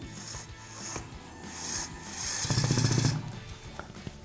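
A Mechanic iDrive 2-in-1 electric screwdriver drives a screw in, giving a rough grinding buzz that swells and fades in short bursts and ends with a louder stretch of motor whine. It is close up, with no talk.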